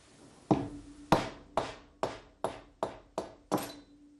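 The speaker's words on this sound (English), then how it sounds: "take out the composite bushing carefully, using a rubber mallet with the composite bushing tool" Rubber mallet striking a composite bushing tool to drive out a composite bushing during maintenance on an Alfa Laval U7000 unit: eight sharp, ringing knocks spaced about half a second apart, close and clear.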